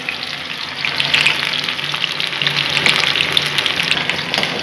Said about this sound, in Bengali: আলুগুলোকে একটু ভালো করে ভেজে নিই।